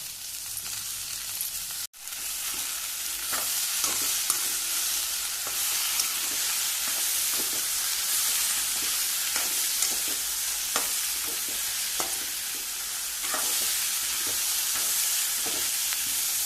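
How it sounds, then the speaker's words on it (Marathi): Okra and onion frying steadily in a hot pan, a constant loud sizzle with repeated scraping stirs breaking through at irregular intervals, after one brief dropout near the start. "आनी आतां हातूंत न्ही भेंडे घालप, खूब अशें डार्क करप ना कांदो बी, मातसो।"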